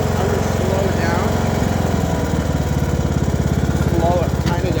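A riding lawnmower's engine runs steadily and close while the mower is being driven, making a continuous rattling drone throughout as a voice talks over it.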